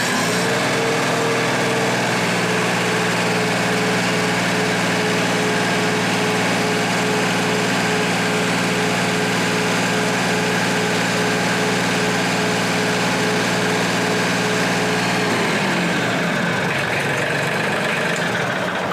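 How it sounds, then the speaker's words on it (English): Mahindra 1626 HST 4WD compact tractor engine holding a steady, loud drone at PTO RPM for about fifteen seconds, then its pitch shifts and settles as the revs change near the end. "I'm going to go ahead and bring it up to PTO RPM so you can hear what that sounds like."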